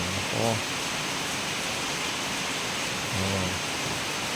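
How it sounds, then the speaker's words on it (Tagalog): Heavy first rain of May pours steadily outside a small home near an avocado tree, a constant dense hiss with a voice briefly speaking over it twice. "Ito, lakas ng ulan."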